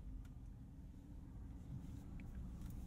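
A 2022 RAM Power Wagon heavy-duty truck backs out slowly, its engine giving a low, steady rumble close by with no talk over it.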